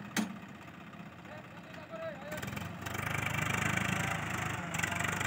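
A tractor engine runs with a steady mid-pitched chug that grows louder and fuller after a few seconds, with someone speaking over it.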